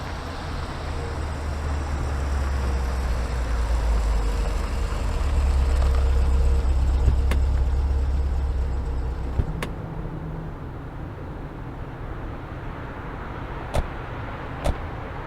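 Car driving through traffic near Bagru, a steady low engine rumble throughout that swells midway and then eases, with a few sharp clicks or knocks late on and no voices.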